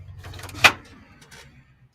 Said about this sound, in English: Sorry, my door squeaks.